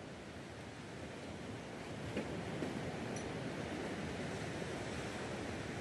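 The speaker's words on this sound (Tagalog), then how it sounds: "Ang lakas ng dagundong ng mga alon." Ocean waves roar on a beach at a resort in Bauang, La Union, a broad, steady rushing surf with wind noise buffeting the microphone, constant and fairly distant, with no talk.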